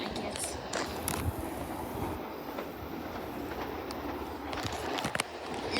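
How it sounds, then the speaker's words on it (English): A train pulls into a station, with a low rumble and rail clatter, scattered clicks and squeals, and a swell of noise toward the end. Voices murmur faintly underneath. "Train coming in."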